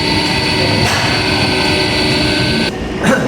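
A steady, loud mechanical whine and hum of an electric motor running continuously in a forward-reverse motor control lab setup, dropping slightly in pitch near the end.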